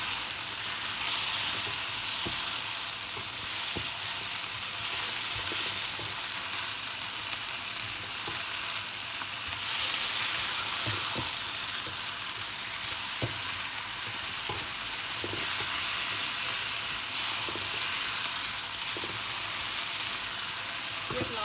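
Pompano fish stir-fried over high heat with Chinese celery, chili and spring onion in a pan, giving a loud, steady sizzle with scattered spatula scrapes and taps throughout.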